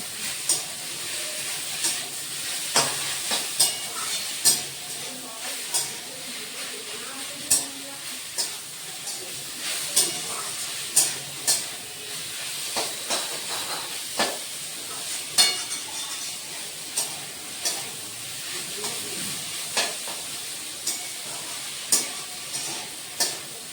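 Green papaya for a sweet plastic chutney fries in a pan, with a steady close sizzle broken by regular scrapes and clinks of a spatula stirring the pieces.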